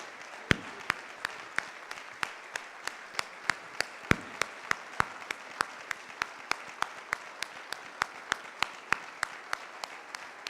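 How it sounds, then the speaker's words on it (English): Sparse, slow applause at a conference session for the planning committee, distinct individual claps in a steady rhythm, fairly close, continuing throughout with faint room noise underneath. "please give a round of applause, an unceasing round of applause"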